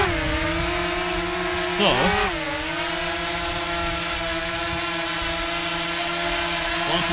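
A DJI Mavic Mini drone lifts off and flies, its rotors giving a steady high-pitched whine with a brief pitch dip and recovery. A voice says a single word early on.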